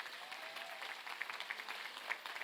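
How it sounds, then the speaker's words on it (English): Scattered applause from an audience at a high school ribbon cutting ceremony, faint and distant, with loose uneven claps running steadily through the moment. "Let's give them another round of applause."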